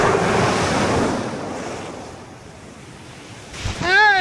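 Southern Ocean surf on an Australian shore, a loud broadband wash of breaking waves that fades into a softer hiss before another swell surges in near the microphone, with a brief voice at the end.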